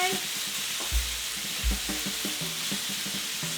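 BBQ chicken pieces fry in a pan over medium-high heat with a steady close sizzle, joined by two brief low thumps as pieces are flipped and a few soft clinks; no talking.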